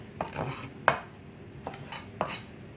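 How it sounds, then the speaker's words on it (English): A knife chops raw shrimp into half-inch pieces on a board. Four or five sharp, quiet knocks arrive at irregular intervals over a soft background, with no talking. "we're going to chop up the shrimp"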